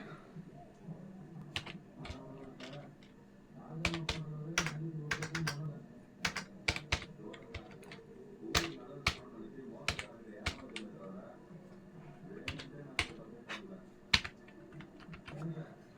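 Keys clatter in irregular bursts as someone types a Tamil word on a computer keyboard, sharp close clicks with short pauses, over a faint low room hum.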